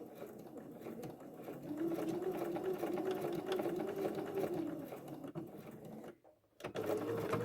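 A sewing machine stitches an invisible zip seam with a steady, close mechanical whir, stops abruptly for a brief pause near the end, then resumes.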